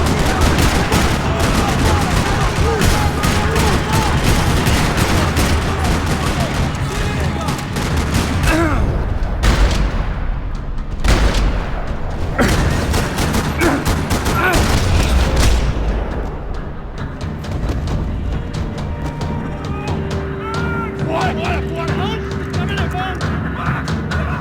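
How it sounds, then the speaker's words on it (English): Dense, sustained gunfire in a parking lot shootout from the game Max Payne 3, rapid automatic bursts and booming shots layered almost without pause, loud and chaotic, with voices shouting over it. "Another parking lot rattling with gunfire."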